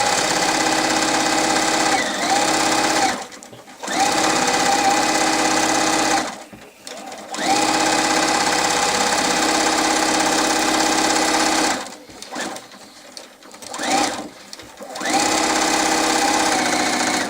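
Sewing machine stitching a quilt seam for a Tropical Breeze kit, a steady rapid whirring hum in long runs broken by several short pauses, close and clear with no talk.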